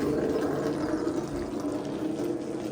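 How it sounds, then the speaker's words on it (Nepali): Water runs from a hillside spring or outdoor tap, a steady close rushing and splashing flow that holds even throughout, with no voices over it. "यहीँ पानी आउँदो रहेछ यता"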